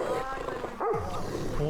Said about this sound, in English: Holy shit, those are big dogs.